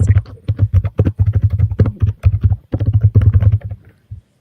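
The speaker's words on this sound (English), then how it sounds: "Is that someone typing?" Rapid, uneven clatter of keys on a computer keyboard, close and fairly loud, with brief pauses between bursts of typing.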